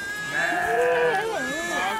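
A single loud, close sheep bleat, wavering and drawn out for about a second and a half, rises from a forest shed in Nepal that houses a flock of six hundred sheep.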